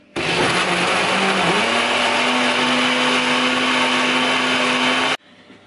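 An electric blender mixes a drink at home with a steady, loud, close whir for about five seconds, then cuts off abruptly.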